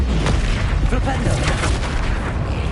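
The Flipendo spell is cast in the video game Hogwarts Legacy, a short booming magical impact with a rumbling burst, while a voice speaks over it.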